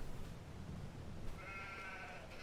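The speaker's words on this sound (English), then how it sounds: "We just bought 10 sheep, had them delivered." A single faint, drawn-out bleat from a flock of ten sheep on a farm in Farming Simulator 22, rising briefly over a low, steady wash of rain and background noise.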